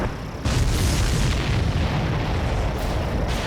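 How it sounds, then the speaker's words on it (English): A deep, rumbling explosion from the video game Ace Combat 7 bursts in after a moment and rolls on as a sustained roar with low booming texture, loud and close. "Did you see that explosion?"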